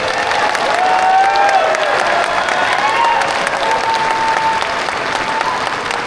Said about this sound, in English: please give a big round of applause to the entire city.